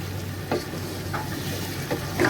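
Chicken and cauliflower fry in a pan with a soft continuous sizzle, broken by several brief scraping stirs of a spoon.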